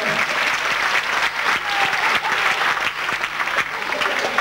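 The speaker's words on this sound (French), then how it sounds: "Applaudissez Nicolas" An audience claps loudly and continuously, a dense burst of applause with a few sharper claps standing out.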